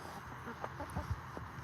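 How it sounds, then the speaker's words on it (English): A seven-month-old backyard chicken in a Florida garden gives a few soft, scattered clucks, faint and brief against quiet outdoor background noise. "Yeah, it's one of my chickens."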